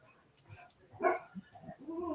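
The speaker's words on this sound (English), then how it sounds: "Now she's going to bark at everything she sees or hears." A dog gives a few short, fairly faint barks and yelps indoors near an opened front door, scattered irregularly over a couple of seconds.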